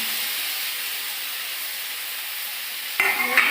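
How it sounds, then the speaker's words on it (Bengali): Potatoes and onions fry in a pan with a steady, close sizzle and hiss, which shifts abruptly near the end as something is stirred or added. "পেঁয়াজটা ভাজা ভাজা হয়ে গেছে এই যে এবার দিয়ে দিলাম আলু"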